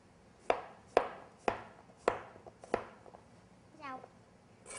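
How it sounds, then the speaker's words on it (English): A knife dices squash on a cutting board, five sharp evenly spaced chops close by, with a voice briefly heard near the end. "And then we're just going to cut these into a really simple dice."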